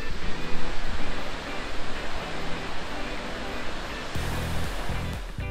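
Steady, dense roar of the 120-metre Tumpak Sewu waterfall, loud and continuous, with a broadband rushing hiss and no voices.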